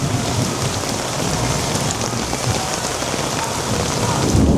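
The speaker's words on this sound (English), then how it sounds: "Rain on camera looks good." Steady, dense tropical storm rain pours down continuously in Miami, a loud close hiss of drops on surfaces with a faint rumble beneath.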